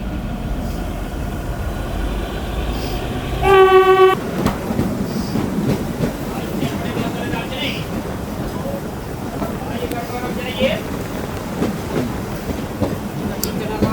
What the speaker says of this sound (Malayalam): രണ്ട് ട്രെയിനുകൾ തമ്മിൽ പാസ് ചെയ്യുന്നതും ഇവിടെയാണ്.